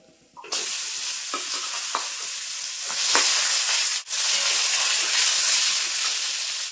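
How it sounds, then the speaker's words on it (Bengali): Sliced pointed gourd (potol) frying in hot oil, a steady close sizzle with a few stirring knocks and a brief dip near the end, no voices. "তো এই পটলগুলো কিন্তু ভেজে নেব।"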